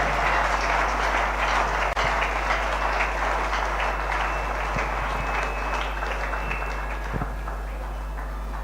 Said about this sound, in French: Applaudissons encore très fort pour la chorale